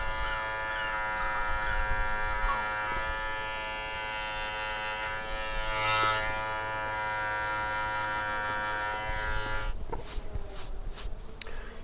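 An electric razor buzzes steadily while trimming a beard, a close, continuous whine with a slight shift in pitch midway, then broken, choppier strokes near the end.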